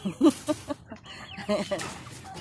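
Heritage chickens cluck excitedly at feeding time in a burst of short, overlapping, close calls, with a person talking among them.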